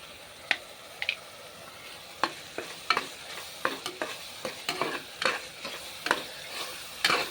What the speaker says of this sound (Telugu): మసాలా బాగా ఫ్రై అయిపోతుంది